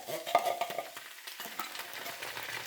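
Hash with baked beans sizzles in a hot frying pan while a spoon stirs and scrapes, with irregular clinks and crackles close up.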